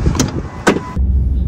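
Getting into a truck brings a couple of short door clunks and rustles, then a steady low electric whirr from a power window motor running close by.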